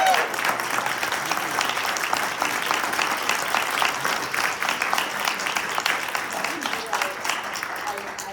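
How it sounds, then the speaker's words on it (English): An audience at an arts panel discussion gives a sustained round of applause, dense clapping from a crowd that keeps up for several seconds before slowly tapering. "I'm going to give you a big round of applause."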